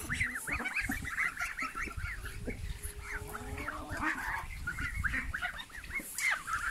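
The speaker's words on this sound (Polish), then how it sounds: "Kaczki te polskie nasze, białe, gąski i mulardy." Hungry white Polish ducks, geese and mulards crowd together while eating feed pellets, giving a dense overlapping chorus of honks and quacks with scuffling, close and busy throughout.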